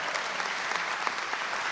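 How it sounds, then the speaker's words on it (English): A comedy-show crowd at a cancer fundraiser applauds in a steady, dense wash of clapping that holds evenly for a couple of seconds. "Give yourselves a round of applause."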